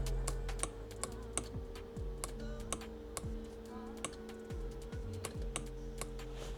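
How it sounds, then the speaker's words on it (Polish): Small relays in the seat control module of a Mercedes W211 with an electric headrest fault click repeatedly, sharp ticks arriving in irregular clusters over a steady electrical hum, close and fairly quiet. "słychać, że przekaźniki działają tutaj w module, w fotelu"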